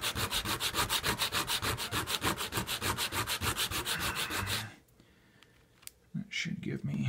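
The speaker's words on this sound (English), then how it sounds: "I'm using some pretty coarse sandpaper." Rhythmic rubbing of a cheap model railway track cleaning car on coarse sandpaper, held at an angle, with fast back-and-forth scrapes that run steadily and loudly before stopping abruptly, leaving a brief quiet stretch and a few handling noises.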